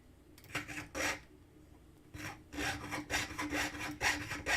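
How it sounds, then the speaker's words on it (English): Hand saw cutting through wood, with rhythmic back-and-forth strokes in short bursts, a pause, then a faster steady run of strokes, close and clear with no talking. "So I know a lot of you don't like sawing, but I really do love sawing."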